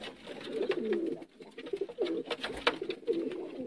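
Sialkoti rooftop pigeons cooing nearby, a steady run of low, throaty coos repeating one after another with brief pauses.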